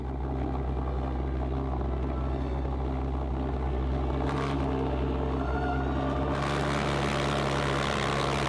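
A homemade jet engine running on liquid propane roars close by in a loud, steady, unbroken drone with a harsh rumbling low end and a hissing top that brightens partway through.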